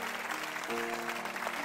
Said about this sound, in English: Clap your hands one more time if you're going to give him everything tonight.